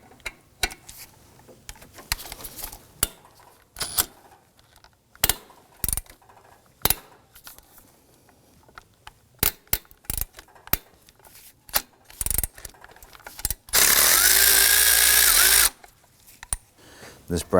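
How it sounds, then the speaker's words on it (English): A 12mm socket on a ratchet loosens the tensioner bolt on a 2005-2009 Subaru Legacy 2.5L H4, giving a string of sharp separate clicks and clatters, then a loud steady burst of harsh tool noise lasting about two seconds, with no talking. "we're going to loosen up this bolt right here going through the tensioner block"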